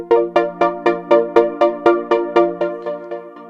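A Roland Fantom music workstation playing its pulsating effect preset: a steady train of about fourteen evenly spaced, bright harmonic synth pulses over a sustained tone, loud and close with no voices.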